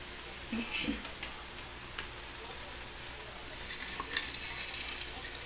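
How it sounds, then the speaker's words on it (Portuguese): Chicken sizzles steadily in a hot frying pan, a constant crackling hiss with a few soft clicks of stirring. "já coloquei o franguinho aqui para ir fritando."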